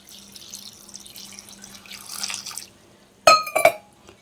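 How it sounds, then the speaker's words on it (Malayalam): Water is poured into a cooking pot for Kerala-style koottukari with yam and chickpeas. A soft trickle comes first, then two short, bright splashes near the end. "വേവാൻ ആവശ്യത്തിന് കുറച്ച് വെള്ളം ചേർത്ത് കൊടുക്കുക"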